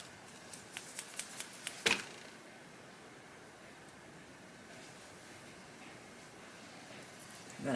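Shear blades on an inexpensive $20 pair of hair shears being test-cut after sharpening give a quick series of crisp snips early on, then fade into quiet room tone.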